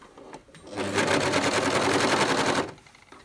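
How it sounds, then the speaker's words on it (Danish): An overlock serger runs along a stretched elastic edge while sewing toddler bloomers, a loud close rapid mechanical whir that starts up, holds steady for about two seconds and then stops. "Og så strækker jeg ud og kører overlocken lige op ad elastikkanten her."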